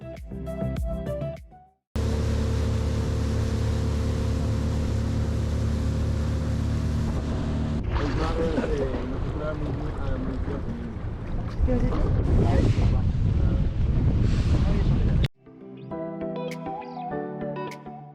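Steady engine drone of a motorboat on the sea off Portimão, Algarve, Portugal, under heavy wind buffeting on the microphone, with voices mixed in; music plays briefly at the start and end.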